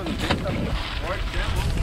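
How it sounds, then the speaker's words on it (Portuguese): Strong night wind roars outdoors near houses and surrounding woods, a continuous, loud buffeting rush against the microphone with faint voices partly buried beneath it. "Olha o vento, rapaziada."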